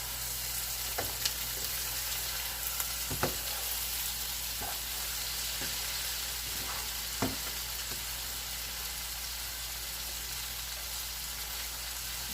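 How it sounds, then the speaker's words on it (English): A spoon stirs smothered Salisbury steak filling with soup and beef stock in a pan: a soft, steady sizzle runs throughout, broken by a few sharp scraping clicks from the utensil. "let me go ahead and stir this"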